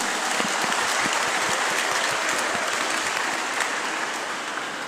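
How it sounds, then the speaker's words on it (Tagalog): A church congregation claps loudly at a bishop's urging during a homily, a dense and sustained burst of applause that fills the whole stretch, close and vigorous, with no speech over it. "pumalakpak nga ng mas malakas."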